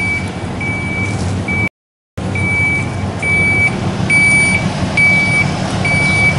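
A truck's reversing alarm beeps steadily and evenly over a loud rumbling engine, with a brief gap of silence early on.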